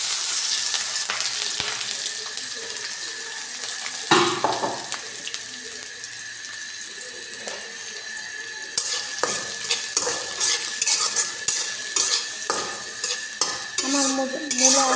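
Chillies and cumin fry in a pan under a continuous sizzle, with scraping stirs and utensil clatter that grow busier and louder in the second half.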